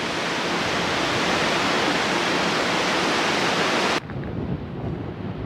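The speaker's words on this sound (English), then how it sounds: "This is all overflow spill off from the lakes, forming Palisade Creek, flowing down this tight canyon." Palisade Creek, fed by lake overflow, rushes down a tight mountain canyon as a loud, steady broadband roar of fast water. The roar drops abruptly to a quieter flowing wash for the final second and a half.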